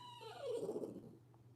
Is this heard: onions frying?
no